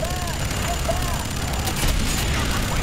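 Gunfire from the player's gun in Fear 3, a dense, steady roar of rapid shots blending into a continuous loud wash over the short stretch, with game effects mixed in and no clear talk.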